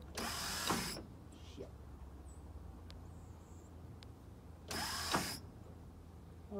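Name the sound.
car starter motor cranking a '65 C10 engine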